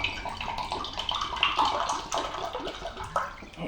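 Water poured out at a festive Christmas drink-up, a continuous splashing, gurgling pour at moderate level with no talk over it.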